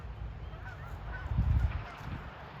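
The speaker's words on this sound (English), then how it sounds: "There's some Canadian geese flying." Canada geese flying over a migratory waterfowl refuge give a short cluster of honks that swells briefly in the middle, heard at a distance over a soft outdoor background.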